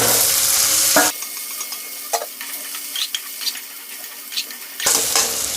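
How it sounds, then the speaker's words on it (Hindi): Chicken sizzles loudly in a hot pan with garlic, the hiss cutting out for a few seconds of quieter clinks and stirring before the frying returns. "अब इसके अंदर हम ये चिकन सब डाल देंगे।"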